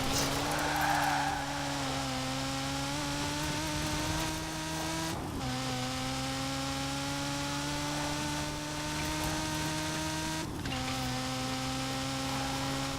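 A Lego Ferrari F40 in Forza Horizon 4 drives continuously, its engine a steady tonal drone that rises in pitch through each gear and drops at two gear changes, with no talk.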